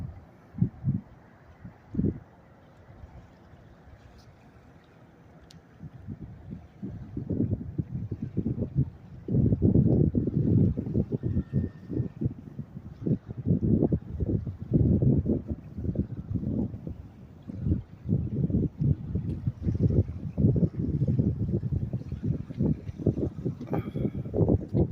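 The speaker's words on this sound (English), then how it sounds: "Kind of windy." Wind buffets the microphone outdoors in Alaska on a clear day with mountains in view, gusting in loud, uneven bursts that grow stronger after the first few seconds and keep roaring with little pause.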